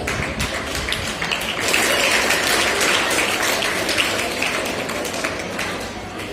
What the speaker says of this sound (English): Welcome him with huge round of applause.